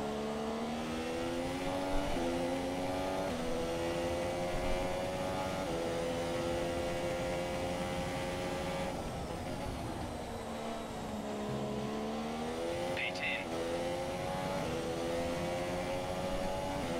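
A Formula 1 race car engine in F1 2017, at Bahrain, heard from the car itself: a steady high-pitched engine whine rising and dropping through gear shifts, loud and continuous with no talk.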